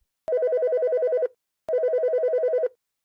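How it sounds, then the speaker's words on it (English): A telephone ringtone rings twice late at night, each ring a loud, close, warbling electronic trill lasting about a second, separated by a short silence. "Then his phone started ringing."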